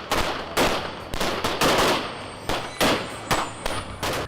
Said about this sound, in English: Port-au-Prince, are frequently greeted by gunfire.